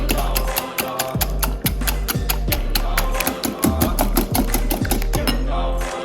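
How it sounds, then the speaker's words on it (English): Four large eggs whisked in a bowl for a popover batter, rapid regular clicking strokes of the whisk against the bowl, loud and close, with a low steady hum underneath. "we're going to start to whisk 4 large eggs"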